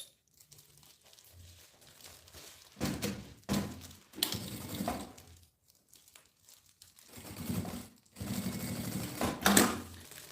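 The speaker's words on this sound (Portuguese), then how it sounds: "E aí eu vou costurar aqui, então, esse viés." Sewing machine stitching bias binding onto an insulated thermal lunch box, running in several short bursts separated by pauses, with crinkling of the bag material between runs.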